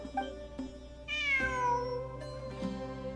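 A cat in Genshin Impact meows a few times, with one clear drawn-out meow in the middle and shorter calls around it, close and fairly soft over quiet game ambience.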